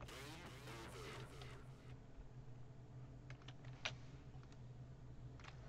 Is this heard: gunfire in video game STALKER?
no